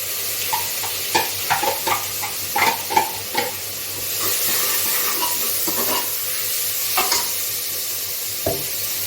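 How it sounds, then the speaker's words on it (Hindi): Chopped onion dropped into hot oil sizzles steadily in a home kitchen, with scattered stirring clicks and scrapes of a spoon against the pan, close and fairly loud throughout, no talking. "और फिर इस चॉप करी हुई प्याज को इसमें डाल देंगे।"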